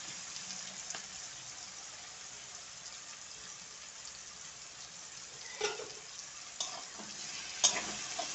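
Mixed vegetables frying and being stirred in a pan with turmeric and spice masala for a Bhogi mixed-vegetable dish: a steady low sizzle throughout, with a few louder stirring scrapes and clinks toward the end.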